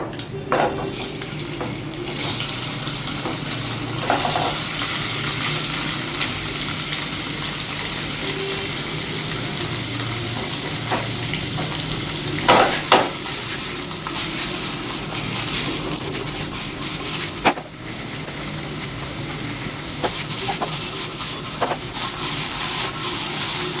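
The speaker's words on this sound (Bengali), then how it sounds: "পনিরগুলোকে হালকা সতে করে নেব।" Paneer being lightly sautéed in a spoonful of ghee for chana paneer masala produces a low, continuous sizzle with a few soft utensil clinks and scrapes, steady and fairly close throughout.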